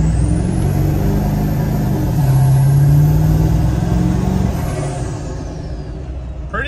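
A modified 580 hp Ford 7.3 Powerstroke diesel truck pulling away from a stop at light throttle, its low engine drone rising in pitch and swelling in loudness before easing off, with an air-brake-like hiss near the start.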